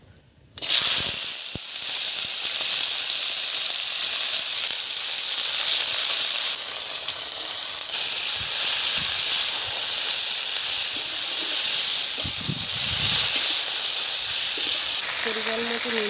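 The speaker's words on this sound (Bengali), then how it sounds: "আলু আর রসুন পাতা একসাথে ভেজে নেব।" Potatoes and garlic leaves fry in oil in a wok with a loud, continuous close-up sizzle and hiss, broken by occasional soft stirring knocks; a voice briefly speaks near the end.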